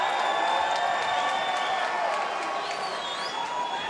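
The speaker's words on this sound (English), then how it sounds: "Fans on their feet, cheering on to Crazy Hawaiian." A Power Slap crowd on its feet cheering and applauding, a steady roar of clapping and whoops with a commentator talking over it.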